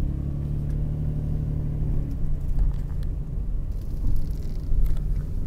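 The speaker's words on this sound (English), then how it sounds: "I'm driving underneath the little roofed guest entrance" A car driving slowly beneath a roofed guest entrance at Fox Hills in Plymouth, Michigan, its steady low engine rumble shifting after a couple of seconds into a rougher rolling sound as it moves under the cover.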